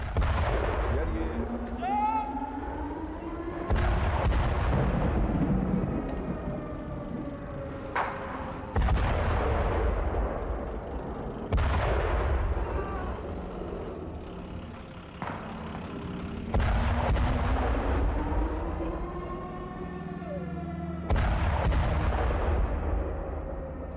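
Heavy artillery fire and explosions from Israeli strikes in Gaza, repeated loud booming blasts every few seconds with rumbling tails, distant and powerful, alone without speech.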